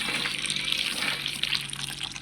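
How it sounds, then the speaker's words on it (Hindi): Tap water opened on a farm, pouring into a container as a steady, close hiss and splash that continues evenly throughout, with no voices. "तो ये हमने पानी खोल दिया है"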